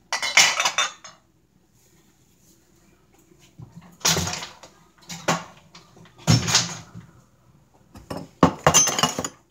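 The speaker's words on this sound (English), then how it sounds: "there go my dishes" Dishes clatter in a home kitchen during taco preparation: several separate bursts of clinking cutlery, knocking bowls and a cupboard bump, close and fairly loud, with quiet pauses between them and no talking.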